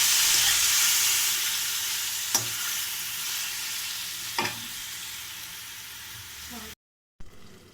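Chopped tomatoes frying in a pan for chutney, a steady loud sizzle with two clear scrapes of a spoon stirring, then a brief cut before the sizzle resumes.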